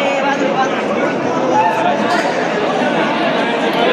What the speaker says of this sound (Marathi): बघू शकता किती गर्दी.